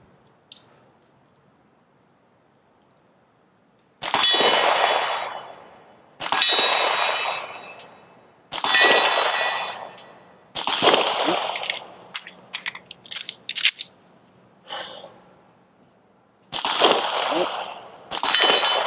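Bullets from a pistol with iron sights strike quarter-size Tac Strike steel targets at 25 yards, giving sharp, loud ringing clangs in repeated bursts with short gaps between strings and no talking.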